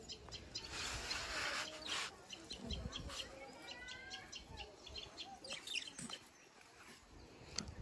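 Pet budgerigars chirp and twitter in a steady, busy stream of short high calls, fairly close, with a noisy household background.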